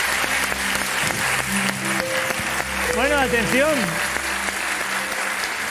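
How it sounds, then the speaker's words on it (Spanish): An audience applauds performers at a live Spanish afternoon broadcast, sustained clapping filling the room while a presenter speaks over it and musical tones sound underneath. "Un aplauso para ellos, por favor."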